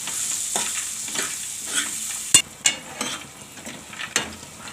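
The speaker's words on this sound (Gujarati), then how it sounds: "હવે આપણે આ સિંગ નાખી દઈશું સિંગ ને કેળા આપણે બે ઘડીક વાર ચડવા દેવાના છે" Peanuts and raw banana cook in hot oil for a Gujarati raw-banana poha, giving a steady close sizzle. Stirring utensils scrape and click against the pan now and then, with no talking.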